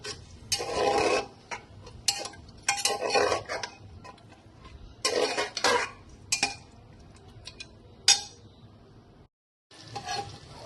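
Mutton being stirred and sautéed for kosha in a pan, heard as intermittent metallic scrapes and clinks of a utensil against the pan over a faint sizzle, with a brief silence near the end.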